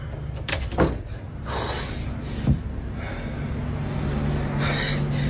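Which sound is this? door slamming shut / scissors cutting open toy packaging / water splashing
door slamming shut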